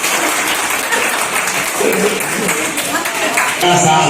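An audience at a karaoke music event breaks into loud, continuous applause, a thick wash of many hands clapping close by, with voices rising over the clapping toward the end.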